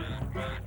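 A brief, loud burst of frogs croaking, dense overlapping throaty calls heard close and steady with no speech.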